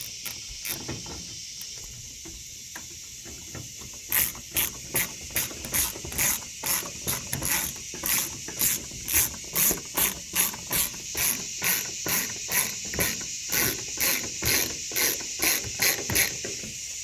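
A ratchet clicks in quick, regular bursts while tightening the screws on a 2000 Ford Ranger tail light, with rapid rhythmic clicks carrying steadily throughout at close range.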